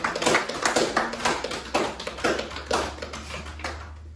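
Church congregation applauding in rapid, irregular claps, fairly close and loud at first, then thinning and fading toward the end with no talk over it.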